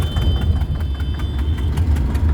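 A tractor engine idles nearby with a loud, steady low rumble and rapid rhythmic knocking pulses, and a faint high whine runs through the first part.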